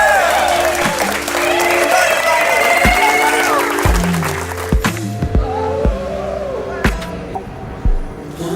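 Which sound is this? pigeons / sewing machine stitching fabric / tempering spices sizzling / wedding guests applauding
wedding guests applauding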